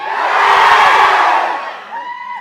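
A large audience roars with shouts and cheers at the launch of Ravi Teja's film Eagle, a loud swelling burst that fades into scattered whoops.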